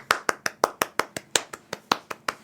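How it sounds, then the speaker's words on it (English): Around a dozen steady, evenly spaced claps from a small group or a single pair of hands at a winter-themed podcast recording, close and crisp with no talking. "round of applause"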